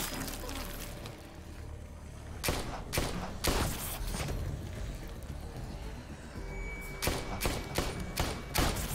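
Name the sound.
rapid gunfire in The Walking Dead video game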